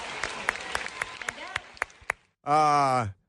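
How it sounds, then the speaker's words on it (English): A crowd claps in a steady patter for about two seconds, loud and close, then a single loud whooping cheer rings out alone. "the crowd going wild and applauding and cheering"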